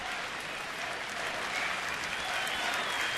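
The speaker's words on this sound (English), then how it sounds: "And the Nats fans, and again the rhythmic applause." Steady applause from Washington Nationals fans at a baseball game between the Twins and Nationals, a dense crowd clapping continuously throughout with no speech over it.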